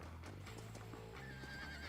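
A horse neighs and whinnies in a video game, with hoof clip-clop mixed into a dense, steady game soundscape at low level.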